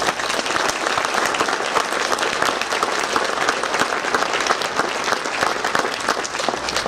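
A wrestling hall of fame honors banquet crowd gives steady, dense applause, with many hands clapping evenly for about seven seconds and no talk over it.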